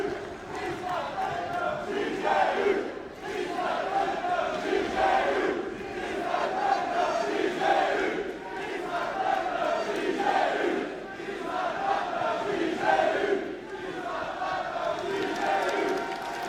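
A wrestling crowd at an arena event in Paris cheers and chants, a rhythmic swelling roar with claps rising and falling in waves over a long stretch.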